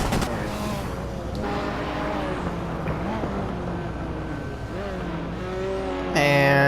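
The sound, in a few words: Mazda RX-7 race car engine in Hot Wheels video game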